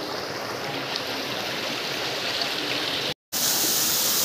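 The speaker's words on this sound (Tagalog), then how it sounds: "Ito na yung Arapay Falls" Arapay Falls, a tall waterfall in Occidental Mindoro, roars as a steady broadband rush of falling water, close and constant, with a brief cut near the end before the roar resumes.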